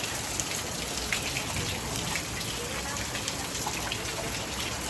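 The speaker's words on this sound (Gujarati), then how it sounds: "હારામાં હારો ચાલુ છે વરસાદ" Heavy rain pours down in Bhavnagar, a dense, constant patter of drops striking surfaces close by, steady throughout with faint voices underneath.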